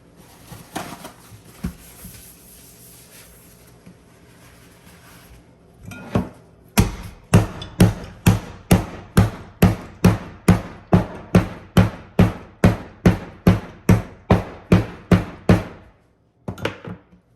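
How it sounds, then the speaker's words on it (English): Pimento seeds wrapped in a napkin are pounded with a bottle on a hard surface for a Jamaican stew pork, a steady run of about twenty loud, evenly spaced thuds after a quieter start of handling noise. "I'm actually gonna put some on a napkin and pound it with a bottle"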